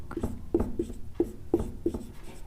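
Writing on a board in a class 10 science lecture: about seven short scratchy strokes in quick, uneven succession, close and fairly loud over a quiet room.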